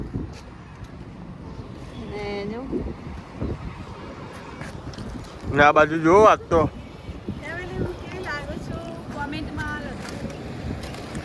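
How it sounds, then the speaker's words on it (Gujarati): Cool wind blows steadily outdoors, a low rumbling wind noise on the microphone that runs under people talking nearby throughout. "મસ્ત ઠંડો ઠંડો પવન આવે છે અત્યારે તો"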